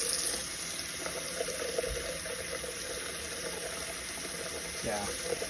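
Hot water runs steadily from a faucet in a Cherokee Greywolf 20RDSE RV, a constant hiss and splash that continues throughout the clip with faint background sounds.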